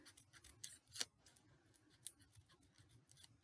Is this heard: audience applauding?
no